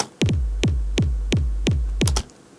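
Dry hardcore kick drum with no reverb, booming in a steady, evenly spaced pattern of punchy pitch-dropping hits, loud and isolated with a few sharp clicks at the start and end.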